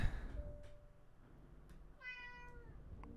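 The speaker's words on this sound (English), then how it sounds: "This is the cat you're hearing." Pet cat meowing nearby, a single clear drawn-out meow in the latter half, with a faint earlier chirp and quiet room noise, no talk.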